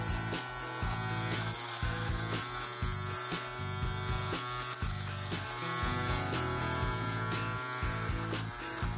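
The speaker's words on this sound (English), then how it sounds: "you can actually hear when the machine has the particle and cuts it off" An electric fabric shaver runs over a jacket, removing pills with a steady high buzz. Its motor pitch dips and rises in quick repeated strokes as the blades catch and cut the fuzz, close up with no talking.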